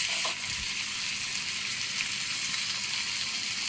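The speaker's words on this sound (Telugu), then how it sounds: "సన్నగా పొడుగ్గా తరుక్కున్న ఉల్లిపాయలు, పచ్చిమిర్చి వేసి ఫ్రై చేయాలండి" Thinly sliced onions and green chilies fry over high flame for prawn pepper fry, giving a constant close sizzle with a brief clatter near the start and no voices.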